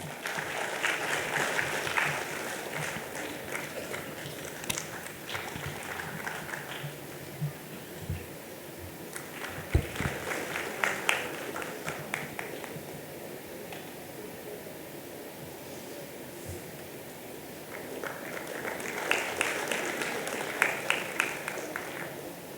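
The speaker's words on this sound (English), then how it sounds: "Can we have the applause, please?" Audience applause at a national cost and management accountants convention technical session, moderate bursts of clapping that swell, ease off and swell again from a seated crowd in a large hall.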